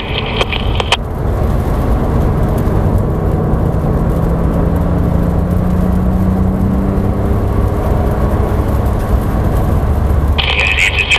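A race car accelerating out of a corner on a track, its engine a steady loud drone with a rising pitch sweep as power is gently squeezed on, close and continuous throughout.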